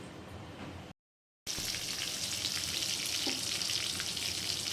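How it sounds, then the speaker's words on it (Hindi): Kebabs frying in mustard oil, a dense continuous sizzle heard close up, briefly cut by a moment of silence before resuming evenly. "ऑयल सरसों के तेल में मैं आज कबाब बनाऊँगी, तो फ्राई कर लेती है जल्दी से"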